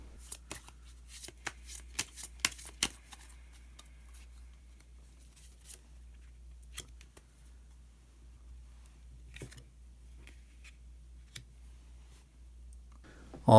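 Tarot cards are shuffled and drawn by hand, making quiet, close riffling flutters and scattered light clicks, busiest at first and then sparse taps.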